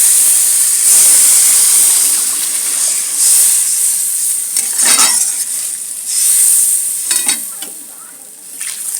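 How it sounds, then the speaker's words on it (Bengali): Water poured onto fried masala in a pan for Bengali bhola fish curry, giving a loud close sizzle and steamy hiss with stirring and utensil clatter, swelling and easing in waves without talk. "এরপরে এতে আমি পরিমাণ মতন জল দিয়ে দেবো।"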